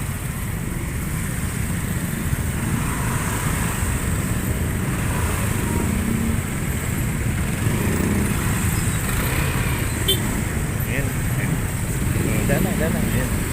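Heavy provincial traffic in Tanza, Cavite, with motorcycle and other engines idling and revving close by in a steady dense drone, while people talk over it.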